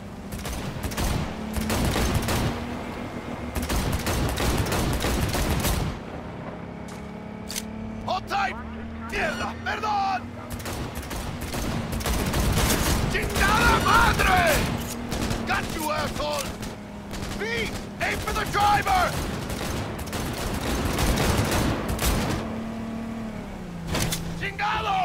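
Dense automatic gunfire during a car chase in Cyberpunk 2077, bursts of rapid shots over a steady engine hum, with voices shouting over the loud, near action.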